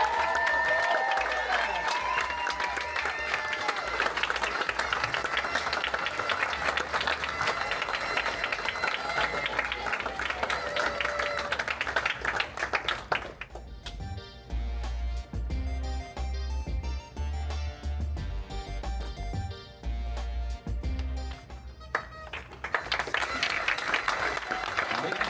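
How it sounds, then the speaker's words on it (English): A crowd at U18 junior bowling finals applauds, dense sustained clapping filling the room, with a pause in the middle where music and talk take over before the applause returns. "how about one more round of applause for the U.S. Junior Team USA 2026"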